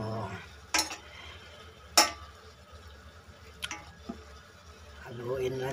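Goat meat adobo is stirred in a frying pan, with a few sharp utensil clanks against the pan over a low simmer, followed by softer taps and a voice speaking near the end.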